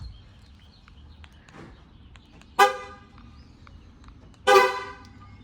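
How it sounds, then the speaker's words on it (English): Ford pickup truck horn set off by its key fob remote, heard from a garage: two loud, short honks a couple of seconds apart over quiet background with faint bird chirps. "I heard from my garage the horn go off"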